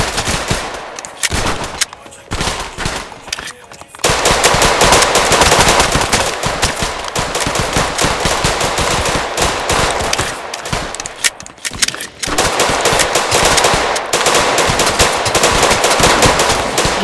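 Sustained automatic gunfire in the game Chicago Remastered: dense, loud, nearly continuous machine-gun bursts for about seventeen seconds, with a brief quieter gap early on and no talking over it.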